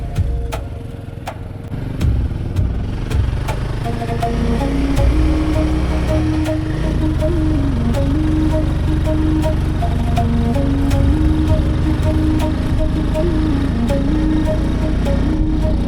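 A motorcycle engine labours on a high-altitude Ladakh ride toward Umling La, a steady loud mid-pitched drone whose pitch wavers and climbs a little while the rumble of wind and road runs underneath.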